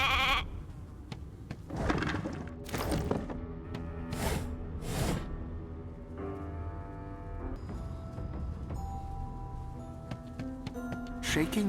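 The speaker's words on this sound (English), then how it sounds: "Hey, a sheep!" A sheep bleats in a few short, wavering calls inside the Divinity Original Sin 2 Definitive Edition video game, mixed with soft swooshes and a steady tonal game backdrop.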